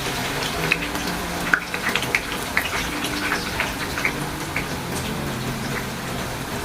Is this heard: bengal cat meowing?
no